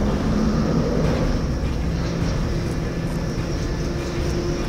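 A helicopter flies in the Call of Duty: Warzone video game, a loud, steady rotor and engine roar that fills the scene without pause.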